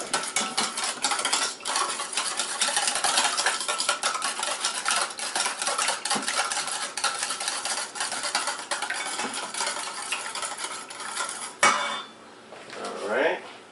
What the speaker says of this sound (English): we're going to go ahead and beat everything to a nice smooth consistency here